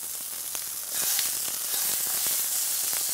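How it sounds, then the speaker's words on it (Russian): A rack of lamb sizzles and spits steadily in a hot pan, a bright continuous crackle that grows louder after the first second. "Баранина обжаривается."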